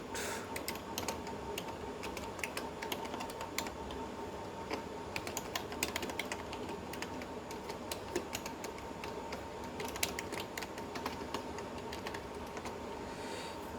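Computer keyboard typing while code is entered, a continuous close patter of key clicks with occasional sharper taps, steady and moderately quiet throughout with no talking.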